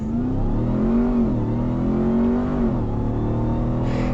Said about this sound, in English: Pin the throttle and let go of the brake.